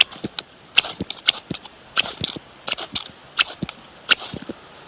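Gerber Bear Grylls fire steel scraped against the knife's blade, a series of sharp, bright rasping strikes, about eight close, crisp scrapes in an irregular rhythm with no talking.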